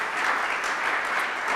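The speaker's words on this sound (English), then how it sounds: "A round of applause for them." Steady applause from a crowd at a mayor's news conference in a community center, sustained, dense clapping at an even level throughout with no voices over it.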